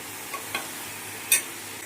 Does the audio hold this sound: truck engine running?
no